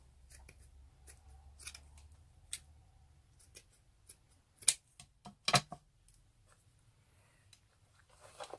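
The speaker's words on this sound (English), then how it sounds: "I'm going to cut this at an angle." Scissors snip paper to trim a decoupage box, cutting an angle at a corner: several sharp, close cuts, some single and some in quick pairs, against a quiet room with a low hum.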